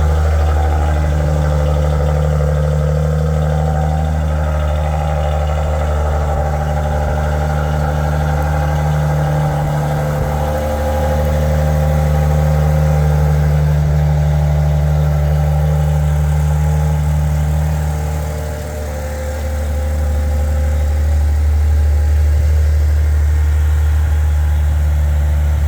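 Just after a cold start, a Maserati Ghibli idles in a steady, deep hum, with a raised low tone that drops slightly near the middle and eases briefly toward the end.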